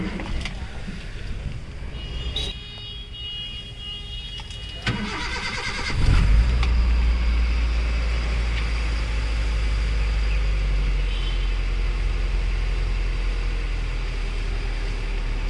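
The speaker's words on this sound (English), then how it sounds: "So you can just check the engine is on, and the sound is very beautiful." A 2012 Maruti Gypsy King 4x4 with a Euro 3 petrol MPFI engine cranks and fires partway through, then settles into a steady, close, low idle rumble after some quieter handling noises.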